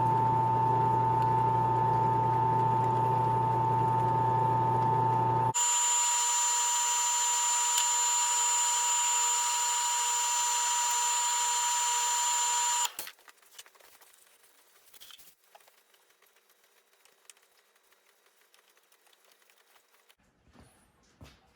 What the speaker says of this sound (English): I have the machine set to the slowest RPM that it'll give, which is I think 630 or 650 RPMs.